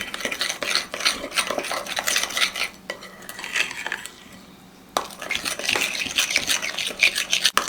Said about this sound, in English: I'm trying to get that fajita seasoning off the bottom.